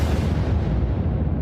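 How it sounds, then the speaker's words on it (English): A loud explosion sound effect made for an audio drama, a dense sustained roaring rumble heavy in the low end that holds steady throughout, close and alone. "like the explosion."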